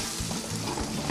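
Chopped onion, carrot and lamb fry in a hot pan, a steady dense sizzle with brief stirring scrapes, close and continuous.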